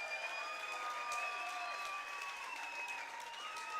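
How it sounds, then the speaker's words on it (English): Crowd at an MMA fight show applauds both fighters after three rounds, a faint, distant wash of clapping in a large hall beneath steady tonal hum and ringing. "let's give both fighters a big round of applause"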